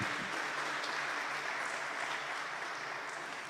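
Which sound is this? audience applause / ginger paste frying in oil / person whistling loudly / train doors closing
audience applause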